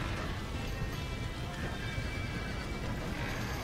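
Horses neigh and whinny amid a busy, continuous wash of Red Dead Redemption game noise, with hooves clopping underneath; steady and fairly loud, no talking.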